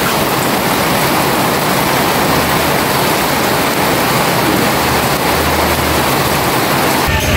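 Steady, loud rushing water fills the whole stretch as rainwater floods a crop field, a dense broadband roar like water pouring and spreading across open ground, with no voices.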